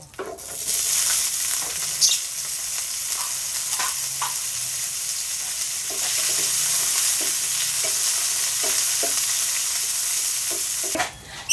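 Sausage frying in a little oil in a hot pan, a steady close sizzle running throughout with occasional clicks and stirring taps, the hiss dropping out briefly at the very end.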